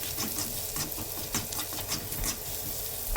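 Pork pieces sautéing with garlic in a pan for a bottle gourd and shrimp dish, a busy crackling sizzle with frequent spatula scrapes and stirring.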